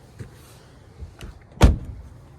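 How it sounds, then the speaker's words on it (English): Doors on a 2022 Mazda CX-5 shut with solid, close thuds: two softer closes followed by one heavy slam, with quiet between them and no talk. "Listen to those doors slam"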